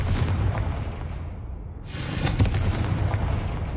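In the Hogwarts Legacy video game, a Confringo blasting spell sets off a booming explosion that rumbles low and heavy, then swells again partway through. It is loud and sounds alone, with no talking.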